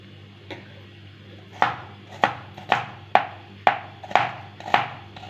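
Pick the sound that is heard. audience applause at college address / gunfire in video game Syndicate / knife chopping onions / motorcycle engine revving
knife chopping onions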